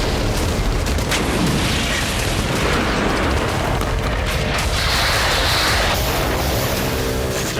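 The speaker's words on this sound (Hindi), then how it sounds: "वहां सिर्फ और सिर्फ बारूद से सना आग का गुबार और धमाकों की गूंज सुनाई दे रही थी" Missile and drone strikes on Sevastopol produce a loud, continuous roar of blasts and rumbling booms, with sharp bursts and crackling debris throughout.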